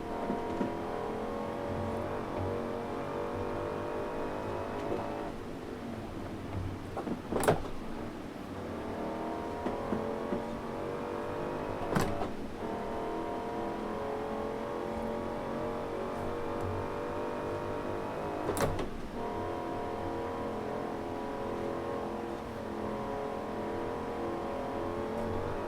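A Hellcat-swapped 1969 Dodge Charger Daytona in Forza Horizon 4 drives with a steady, droning engine note, punctuated by a few sharp gear shifts or clicks, continuous and moderately loud throughout.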